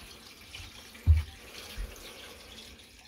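Water runs into an aquarium external filter canister during cleaning, a soft low gurgling fill with a brief splashy surge, steady and close.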